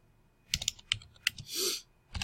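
Java code being typed on a computer keyboard: quiet, close key clicks in irregular short bursts, then a longer soft rustle, with no speech.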